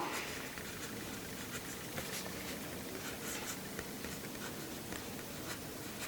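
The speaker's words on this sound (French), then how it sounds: "j'écris" A pen scratches across paper in continuous, close, busy strokes, with fine scraping texture throughout and no pauses.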